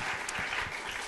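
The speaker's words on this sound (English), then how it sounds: "how about a round of applause?" An audience at an event celebrating children's literature breaks into steady, dense applause, a continuous wash of many hands clapping together throughout.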